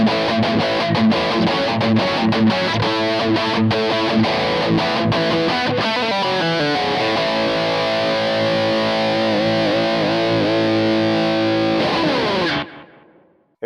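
Boosted high-gain electric guitar on a Kemper Marshall profile, a long stretch of saturated, sustained shred lines with fast runs and bends, loud and continuous before stopping abruptly.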